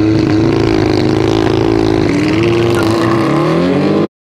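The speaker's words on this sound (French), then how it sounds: "La RS6 est passée à la vitesse supérieure." An Audi RS6 accelerating hard in a race, its loud engine note climbing in pitch, dipping at an upshift around the middle, then rising again before cutting off abruptly.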